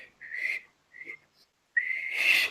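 A voice imitates an odd, unpracticed whistle in three breathy bursts: two short ones, a pause, then a longer, louder, airier final whistle, close and alone.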